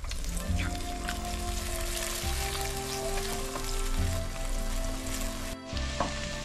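Mixed vegetables and ingredients for restaurant-style mixed fried rice frying in a pan, giving a continuous dense crackling sizzle throughout, with a low steady hum underneath and a brief dip near the end.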